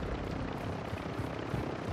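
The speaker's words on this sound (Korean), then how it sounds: "유저 헬기야 이거?" A helicopter in the video game Call of Duty Warzone 2 gives off a constant rotor thrum and engine roar with a faint pulsing beat, steady and fairly loud, with no talk over it.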